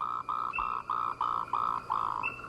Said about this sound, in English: Sauter's brown frog, the pango toad, Swinhoe's brown frog, and Moltrecht's green tree frog start to sing.